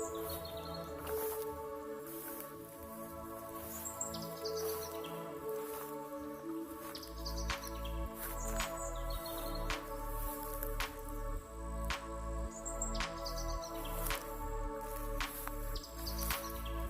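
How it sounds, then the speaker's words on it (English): Birds chirp and call through a sunny backcountry nature walk, with several short bright tweets scattered over a steady bed of distant music that grows a heavier rhythmic low beat midway. "Even though you can hear the birds, there's music playing."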